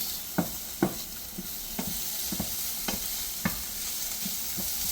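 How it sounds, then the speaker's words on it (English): Peppers and onions sizzle in a pan as tomato paste is stirred in for chili, a constant frying hiss under a run of about eight evenly spaced spatula scrapes, close up and with no talking. "now I'm going to stir in the tomato paste"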